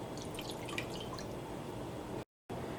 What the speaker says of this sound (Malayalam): പഞ്ചസാരപ്പാനിയാക്കാൻ വേണ്ടിയിട്ട് ഈ പാനിലേക്ക് വെള്ളം ഒഴിക്കുക